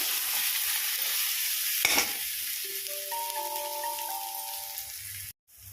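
Taro pieces frying in oil in a pan: a steady, close sizzle with a brief scrape or clatter as the pieces are turned over, then a sudden cutoff at the end.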